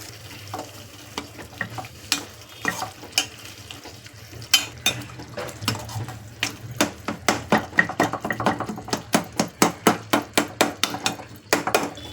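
A ladle scrapes and clinks against a pan in a steady rhythm, stirring thick brinjal thokku over a low, constant sizzle.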